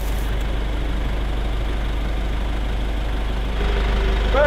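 A pickup truck fitted with a snowplow idles with a steady, loud low rumble throughout, the engine note rising slightly near the end as it begins to move.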